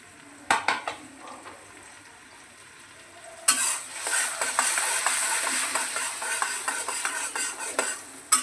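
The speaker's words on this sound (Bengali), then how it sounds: "লবঙ্গ, এলাচ, এগুলি সব ফোড়নে দিচ্ছি আমি।" Whole cloves and cardamom hit hot oil for a vegetarian paneer curry, bursting into a loud, steady sizzle after a few quiet clinks, crackling and popping continuously without any talk.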